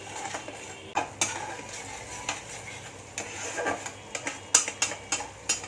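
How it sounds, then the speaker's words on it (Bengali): Masala paste for hariyali chicken is stirred and fried in a pan, a quiet soft sizzle broken by intermittent scrapes and clinks of a utensil against the metal, close by. "তো এবার পুরো এই মশলাটাকে ভালো করে কষাতে হবে"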